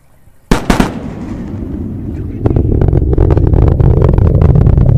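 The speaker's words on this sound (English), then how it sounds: "Sonic boom." Sonic booms from landing rocket boosters: a sharp double crack followed by a long rumbling roll that swells into loud, sustained crackle and rumble, heavy and close.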